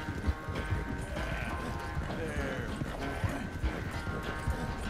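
Rhythmic hoofbeats of a galloping horse clip-clop steadily, with game-like ambience and a brief whinny, in the video game Red Dead Redemption 2.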